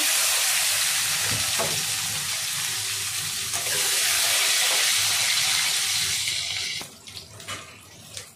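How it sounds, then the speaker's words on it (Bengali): Loud, steady sizzling of pointed gourd frying in hot oil, a dense hiss that holds for several seconds, then drops away into quieter crackles near the end. "এবারে এই সেম ওয়ে আমি পটলগুলোকেও ভাজবো।"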